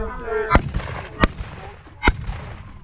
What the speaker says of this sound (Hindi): साहब, शॉट किसने मारा?